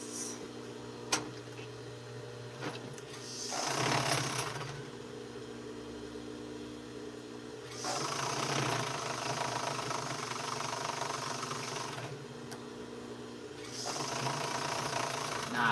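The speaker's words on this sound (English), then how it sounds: "Now I like to take my time when I serge" A serger runs in short bursts while sewing the side seams of a duster, each run a steady mid-pitched motor whir with gaps of quiet between, close and fairly loud.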